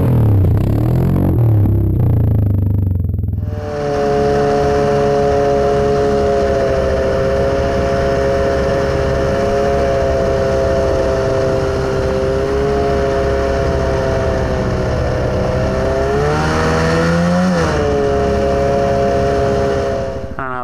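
A Yamaha Grizzly 700 ATV fitted with Camoplast Tatou T4S rubber tracks runs steadily and loud, engine droning with a rising whine near the end, preceded by brief wind buffeting and handling noise.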